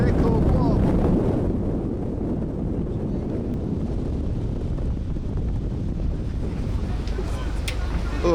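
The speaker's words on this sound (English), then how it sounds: "It's hard to find shelter from the biting wind." Strong Arctic wind buffets the microphone on a ship's deck off Norway, a loud continuous rumbling roar with no letup, with faint sea wash beneath it.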